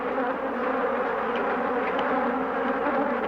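A swarm of Africanized killer honeybees buzzing right around a beekeeper in a veil, a steady, dense, close drone that holds evenly throughout with no voices.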